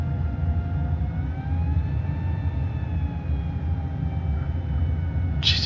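A Pilatus PC-21 aircraft flying low across the runway in Microsoft Flight Simulator, a steady droning engine roar with a rising and falling whine, loud and continuous, ending with a short burst of noise.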